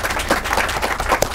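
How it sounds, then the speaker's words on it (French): An audience at a stage quiz show applauds a departing team with a brief, lively burst of clapping from many hands, fairly loud and close. "Des applaudissements, s'il vous plaît."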